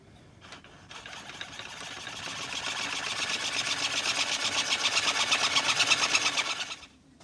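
A fine saw blade cutting a tavern clock hand: a fast, rhythmic mechanical chatter that builds from quiet to a steady close buzz with pulsing strokes, then stops abruptly, with no talk.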